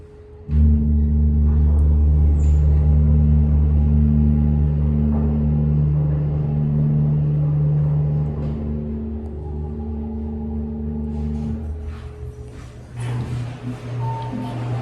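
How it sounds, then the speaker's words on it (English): Steady low hum and drone of a Montgomery KONE hydraulic elevator motor running at Park Meadows Mall, continuous and fairly loud with a shift in pitch near the end. "let's hit that motor one more time"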